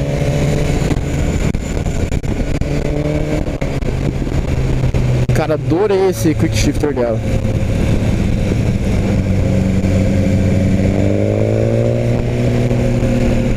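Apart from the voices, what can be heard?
sport motorcycle engine revving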